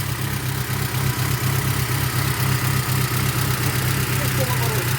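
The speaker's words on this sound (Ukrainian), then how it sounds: "Де ви бачили, щоб газель так заводилася?" A GAZelle van engine running at idle, a steady low rumble with an even throb that continues for the whole stretch, close by and loud.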